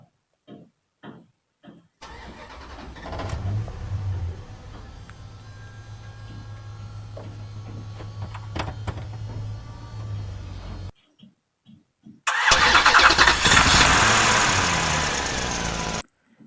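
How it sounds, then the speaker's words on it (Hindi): A truck engine starting sound effect: a few short clicks, then a cranking catch that settles into a steady low idle rumble for several seconds, a brief cut, and a loud, harsh revving burst near the end. "गाड़ी स्टार्ट हुआ उस टाइप का इसमें साउंड इफेक्ट में आया"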